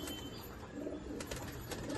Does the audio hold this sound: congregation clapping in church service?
no